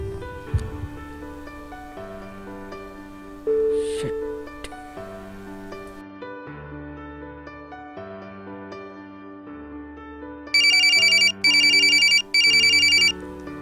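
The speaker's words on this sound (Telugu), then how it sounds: "నీకు ఫోన్." A telephone ringtone sounds over soft background music: three short, bright electronic bursts repeat in quick succession near the end.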